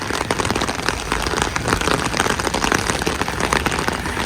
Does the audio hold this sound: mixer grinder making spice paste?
no